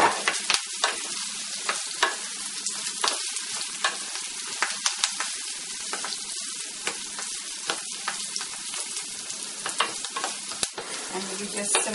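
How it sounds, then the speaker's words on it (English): Potatoes and curry leaves dropped into a pan of softening onions, a lively close frying crackle with frequent sharp spits and stirring scrapes throughout, no speech. "I'm just going to add these curry leaves and dump all our potatoes in there"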